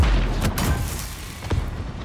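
Tank cannon fire in the armored combat game Project Cold War: a loud, close boom at the start, then a sharp crack with a rumbling tail and a second blast about a second later.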